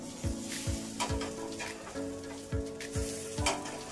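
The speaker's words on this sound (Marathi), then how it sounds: "मीडियम गॅसवर छान परतून घ्यायचंय आपल्याला धिरडं हे" Sorghum-flour dhirade frying in a pan over medium gas, a steady sizzle under repeated soft knocks and scrapes from a spatula.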